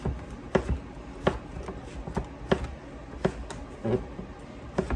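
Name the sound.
knife cutting zucchini lengthwise on a board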